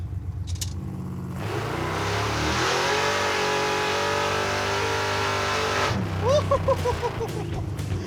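A muscle truck on an autocross course roars as it accelerates hard, the engine note climbing and holding loud for several seconds. It then drops off, with brief rev blips and shifting near the end.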